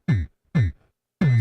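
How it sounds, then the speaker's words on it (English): Beatboxed mouth sounds run through a looper with EQ and effects come out as three punchy, booming drum-like hits with deep low thumps and bright edges, spaced unevenly and heard close and alone. "But the looper with effects makes it sound like this."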